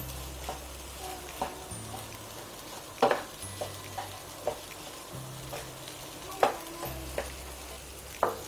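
Moong dal mixture with ghee roasting in a pan for barfi, a soft continuous sizzle punctuated by repeated sharp scrapes and taps of a spatula stirring at uneven intervals, close by, with no voices.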